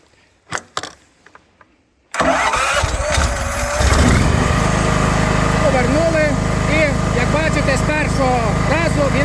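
After a few clicks and clunks, a Somport TM Genergy generator engine sputters to life and settles into a loud, steady running rumble.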